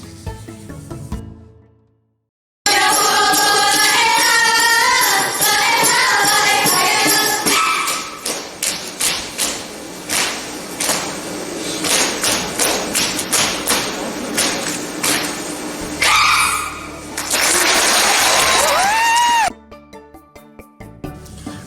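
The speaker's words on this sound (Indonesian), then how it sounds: "tari Seman, dengan tepukan tangan ke tubuh dan diselingi dengan nyanyian" Saman dance from Aceh, with performers rhythmically slapping their hands against their bodies in fast, loud, tightly synchronized bursts, mixed with group singing and chant-like vocal lines; the pace shifts and pauses partway before rising again.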